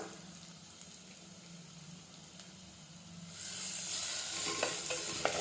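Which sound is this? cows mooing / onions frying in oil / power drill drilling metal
onions frying in oil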